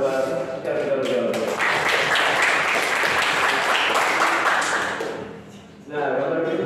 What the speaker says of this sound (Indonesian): Kasih tepuk tangan buat yang sudah menjawab.